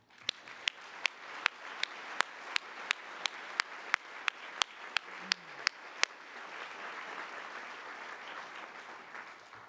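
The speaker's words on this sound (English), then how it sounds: "we'd have to give you just one more round of applause" Audience applause at a marathon charity pasta party, a steady wash of clapping with sharp regular clicks over it for about six seconds, then the clapping carries on alone and fades slightly.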